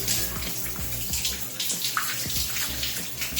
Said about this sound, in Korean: 저는 요즘 계속 콜드 샤워를 해주고 있습니다.